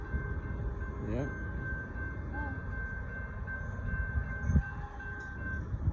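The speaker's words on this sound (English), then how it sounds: "There goes the southbound Amtrak Texas vehicle 21 leading 53 with those 5 super line cars." Southbound Amtrak Texas Eagle 21 passenger train, led by locomotive 53 with five Superliner cars, passing at Banister Lane in Austin, Texas, with a steady rumble of rolling cars, a brief horn-like tone early and a faint voice.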